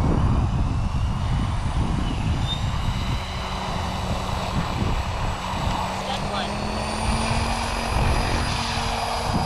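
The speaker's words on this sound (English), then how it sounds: "Let's test this 6S motor out." Electric RC helicopter, a SAB Goblin Raw Piuma 700 on a 6S motor, spooling up with a steady loud whine and rising tonal hum, with broadband rotor wash running throughout.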